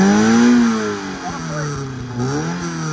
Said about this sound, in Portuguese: Aí eu afundo o pé.